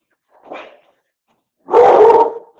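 A dog barks twice nearby, a short soft yip followed after a pause by a louder, longer bark.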